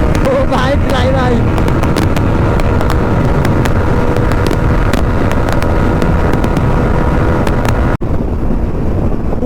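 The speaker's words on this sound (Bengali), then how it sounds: "প্রচুর উইন্ড ব্লাস্ট ভাই" Heavy wind roar buffets a motorcycle rider's microphone at full throttle on an open highway, a dense steady rush with engine drone beneath, briefly dropping out near the end.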